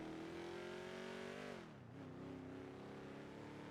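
Muscle car engine in GTA NoPixel roaring steadily and loudly, a sustained revving note that dips briefly then climbs back, with no talk over it.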